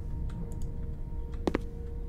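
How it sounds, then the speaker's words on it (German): Keystrokes on a computer keyboard and a mouse: scattered faint clicks at a desk, with a sharp close pair of taps near the end over a low background hum. "Ich hoffe auch, dass man meine Maus, respektive meine Tastatur vor allem nicht so gut hört."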